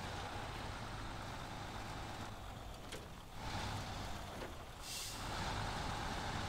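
A MAN TGS 480 10x4 truck drives in the video game SnowRunner, a continuous loud engine drone with hissing air-brake bursts and a brief high tone near the end.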